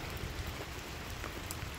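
Steady rain falling outdoors on a cold, rainy day around a parked RV, a constant dense hiss with no speech.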